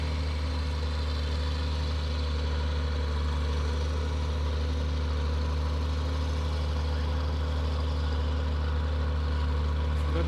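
A big 1164 or 1174 tractor idles steadily at a cultivation and match ploughing practice day, a loud continuous low diesel rumble that holds unchanged from start to finish with no voices over it.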